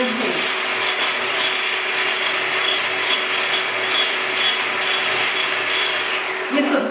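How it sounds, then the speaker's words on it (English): An electric whisk beating egg white toward firm peaks: a continuous close motor whir with a scraping, rubbing texture from the beaters, steady and loud throughout, with a brief clatter right at the end. "I'm just going to whisk it until I get lovely, almost firm peaks"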